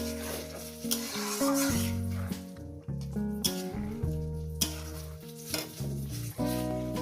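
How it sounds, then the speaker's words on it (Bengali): Tomatoes sautéing in a pan for a spicy katla fish curry, soft sizzling and occasional stirring taps heard under loud sustained background music. "দিয়ে দেবো টমেটো, 4 মিনিট ধরে আমি কষিয়ে নেবো"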